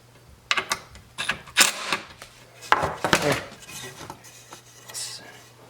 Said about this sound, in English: Just hammer it in.